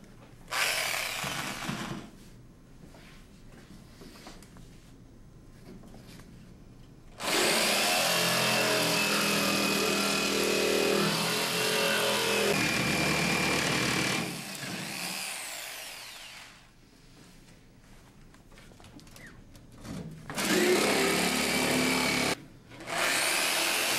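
Power tool cutting a circle out of a wooden board for a hovercraft build, a loud sustained buzzing cut for several seconds between quieter stretches of handling and brief bursts, ending with another short run of the saw.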